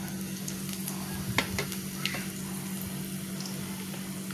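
Chopped garlic sizzles faintly in oil alongside dried loitta fish, a steady soft frying hiss with a few small crackles and light stirring clicks, no voices.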